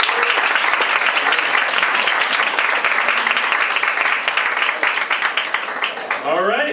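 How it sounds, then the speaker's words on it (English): Sustained audience applause at a filmmakers' panel event, a dense wash of clapping filling the room at steady volume before thinning out at the end, with faint voices underneath. "How about a huge round of applause?"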